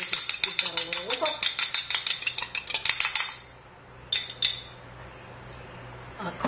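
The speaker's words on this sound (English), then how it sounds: "That needs to be lightly beaten. Just give that a little whipple." A fork beats a separated egg lightly in a bowl, giving rapid close rhythmic clinking taps against the side that stop after about three seconds, followed by a brief second burst of clinks.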